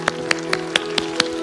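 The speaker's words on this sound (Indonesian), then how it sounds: "Beri tepuk tangan buat Tuhan Yesus." An audience at a children's church service claps in a quick, steady rhythm of about six sharp claps, moderately close and alone.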